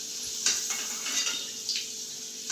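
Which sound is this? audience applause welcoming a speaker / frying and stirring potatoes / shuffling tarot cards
frying and stirring potatoes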